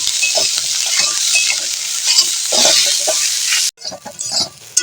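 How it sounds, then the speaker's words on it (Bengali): Vegetables with salt added frying in a pan with steady loud sizzling while a utensil stirs and scrapes them, close by, with no talking. "লবণটা দিয়ে এবার আবার নাড়াচাড়া করবো"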